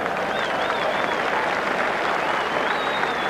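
A large Fijian crowd at a 1987 Rugby World Cup match between Fiji and Argentina roars and applauds continuously, a dense, sustained wash of cheering and clapping heard from within the stands.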